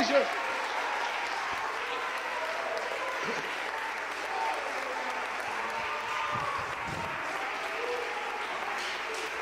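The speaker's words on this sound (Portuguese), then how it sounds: "aplauda ele" Church congregation applauding at a worship service, a dense steady wash of clapping and cheering that fills the whole stretch at even loudness.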